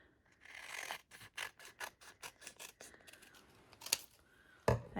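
Scissors trim a sheet of shimmer vellum for a bag, a quick run of crisp, evenly spaced snips close up, followed by a sharper rustle and clack of the paper at the end.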